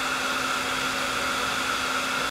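A hair dryer blows steadily at close range, a constant loud whooshing hum with a faint motor whine, used to warm an eyelash curler, with no talking.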